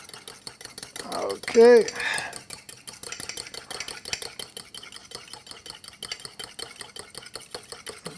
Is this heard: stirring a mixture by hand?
yes